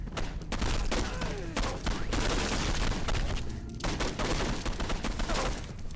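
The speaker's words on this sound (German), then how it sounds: "Scheiß auf Zielen, einfach draufballern." Gunfire in the video game Condemned 2: Bloodshot comes as dense, rapid bursts of shots with heavy booms, loud and close, barely pausing across the few seconds.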